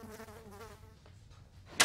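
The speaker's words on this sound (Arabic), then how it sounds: "سيب الدبانة دي" A fly buzzes faintly with a wavering drone for about a second and a half, ending with a sharp, brief noise burst.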